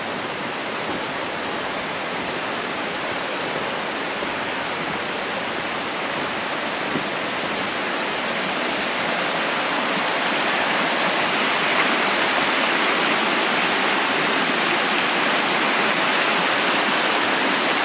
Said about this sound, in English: Creek down there.